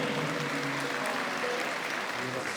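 Wedding guests applauding on a stage, a dense, steady wash of clapping that carries on without a break for a couple of seconds, with faint voices mixed in.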